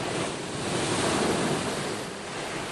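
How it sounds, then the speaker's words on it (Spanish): Atlantic ocean waves breaking against rocky shore platforms on Madeira, a loud continuous wash of surf with wind noise, swelling and easing slightly. "permiten observar muy de cerca la fuerza de las olas rompiendo contra las rocas"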